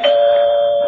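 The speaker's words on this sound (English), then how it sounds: "Finally, the doorbell rang." A doorbell rings as an old radio drama sound effect, one loud clear electronic chime tone that sustains and slowly fades, with no voices.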